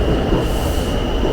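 A metro train pulls into a Maryland station with a loud, steady rumble and a sustained high wheel squeal close at hand.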